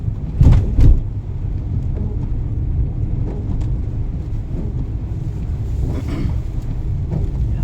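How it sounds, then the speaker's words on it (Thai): Steady heavy rain pours through the night with a constant hiss and low rumble, a couple of heavier thuds early on, no voices. "ฝนตก ตลอดทั้งคืน"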